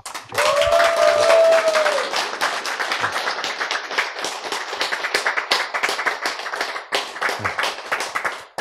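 Lecture attendees clap in a steady, crisp patter that starts loud and continues evenly with slight swells, a voice briefly heard near the start.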